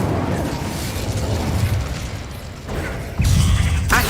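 An Incendio fire spell cast in Hogwarts Legacy sets off loud, dense fiery bursts and rumbling, with a sharp, stronger blast near the end.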